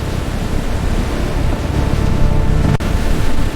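Rough, stormy sea waves crashing in a dense, loud, roaring wash of water and wind that swells slightly and holds steady for a few seconds.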